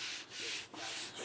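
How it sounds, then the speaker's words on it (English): Sandpaper rubs back and forth over body filler on a dent repair in three quick, even strokes, heard close up as a soft, airy rasp. "It sands really nice, so you don't really have to force it. Let the sandpaper do the work."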